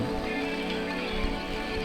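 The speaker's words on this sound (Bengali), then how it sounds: "বৃষ্টি হচ্ছে, দেখুন একটি বৃষ্টি।" Steady rain falls outdoors at a lotus wetland in Khulna, a constant, dense patter of drops on surfaces with no break or rhythm change and no voices.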